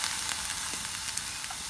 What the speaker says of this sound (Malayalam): വെറുതെ ഒന്ന് വറുത്തെടുക്കാം, അത്രയേ ഉള്ളൂ.